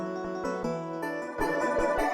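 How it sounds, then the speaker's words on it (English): A short, bright plucked synth tone repeats in a quick rhythmic pattern over a steady beat, clear and up front. "Finally, I added some extra sounds like this little plucky thing"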